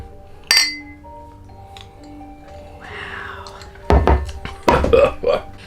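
Drinking glasses clink together in a toast among friends, a couple of sharp bright taps standing out over quiet background and soft voices.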